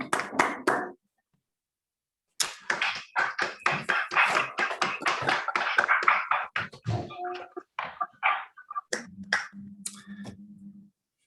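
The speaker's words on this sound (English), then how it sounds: "there's a lot of virtual clapping and some real clapping" Scattered, uneven clapping from a small audience closes a mathematics lecture on L-functions. A quick patter of hands comes after a short pause, thins into a few separate claps, then gives way to a faint hum at the end.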